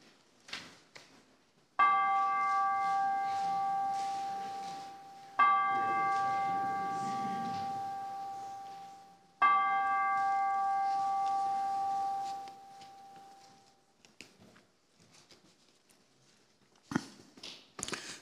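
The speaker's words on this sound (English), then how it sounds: "We will now have the ringing of the Trinity chimes" Church chimes ring out during a worship service, three separate loud struck tones with long sustained ringing decays, each fading over several seconds, with quiet room noise between and afterward.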